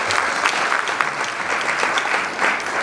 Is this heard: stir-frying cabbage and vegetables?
no